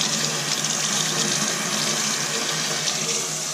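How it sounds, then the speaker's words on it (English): A tap runs steadily to rinse soap from a guinea pig during its bath, a constant close hiss of flowing water in a sink, unbroken and fairly loud. "So I like to use the tap to rinse them out to make sure you get all the soap out"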